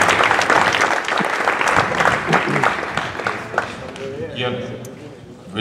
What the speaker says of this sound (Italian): io inviterei qui sul palco gli autori dei cortometraggi che state per vedere, con un grande applauso, Luca, Elisa, Saverio, Ian, Matilde e Marta